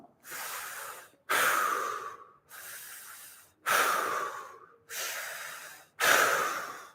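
Six rapid, forceful breaths pushed through the mouth during a fascial stretching session, each a loud airy rush with short silent gaps, close and alone with no talking.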